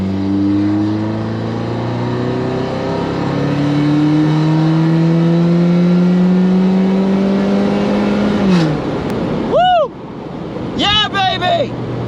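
A BMW Z3 roadster accelerates, its engine note climbing steadily through rising revs for several seconds before easing off, heard from inside the car with someone talking over it.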